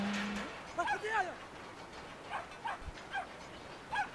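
Dog barking in the video game Brothers: A Tale of Two Sons: several short, yelping barks come in bursts near the start and again later, moderately close, over a faint game ambience.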